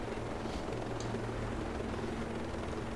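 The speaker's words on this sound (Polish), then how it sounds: "Oto ten dron Azrael, czy jak ktoś tam nazywa." Azrael drone from Ghost Recon Breakpoint flying nearby, a steady rotor-like drone hum with a low tonal drone and constant airy whir, moderately loud and continuous throughout with no voices.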